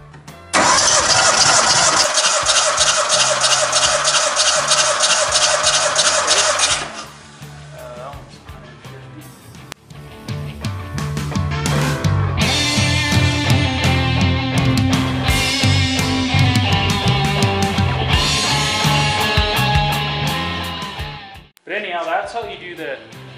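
A Suzuki Samurai engine cranking over with the throttle held wide open during a compression test, a loud rapid rhythmic churning that runs for several seconds, stops, then gives way to further mechanical noise and voices.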